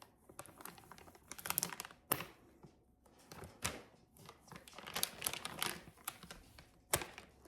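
A sealing clip slides along a handheld vacuum sealer bag, giving a series of close, quiet plastic clicks and crinkles in irregular bursts, with no talking.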